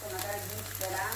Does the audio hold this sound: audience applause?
no